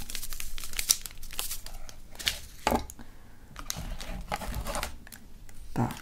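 Plastic packaging of a Russian military ration crinkles and rustles close up as it is unboxed, with repeated crisp crumpling bursts and a few sharp tearing snaps across several seconds, no talking.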